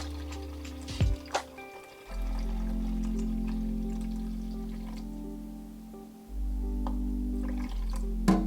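BLIX chemical is poured into a film developing tank, a steady liquid stream running for several seconds, pausing, then resuming, with small clinks and drips before and between the pours.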